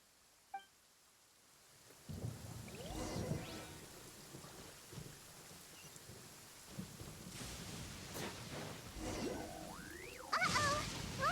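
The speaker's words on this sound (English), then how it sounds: "Lightning storm!" Lightning storm in Genshin Impact brings steady rain with rumbling thunder rolling in and out, sharp crackling strikes near the end, all fairly close and without talk.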